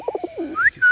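A six-month-old pet pure white pigeon with a small crest coos up close, giving a quick series of soft throaty pulses followed by two higher drawn-out calls.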